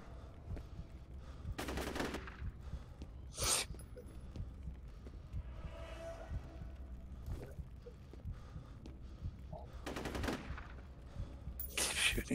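Bursts of gunfire from the F.E.A.R. shooter game come in a few short sharp volleys spread across the scene, heard fairly faintly over low ambient rumble with occasional talk.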